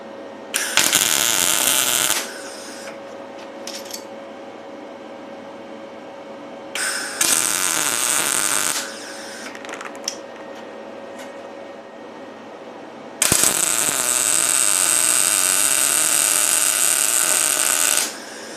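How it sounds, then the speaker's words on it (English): Tack welding a steel frame with a YesWelder MP200 welder: three loud, steady crackling bursts, the last one longest, set apart by quieter stretches with a low hum. "I just want to tack weld this on and then get the other one on, of course."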